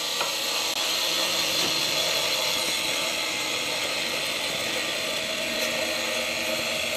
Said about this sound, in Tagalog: lilihain na lang natin tong dulo